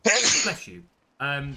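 A person sneezes sharply and loudly up close, a forceful burst followed moments later by a shorter voiced sound.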